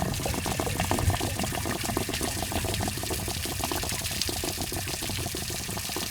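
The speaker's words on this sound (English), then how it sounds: "I like to help the water come out a little bit quicker by pulling the pop-off valve." Steady rush of water pouring out of a camper's tank drain valve with the pop-off valve pulled, continuous and fairly close, with a faint gurgling texture throughout and no voices.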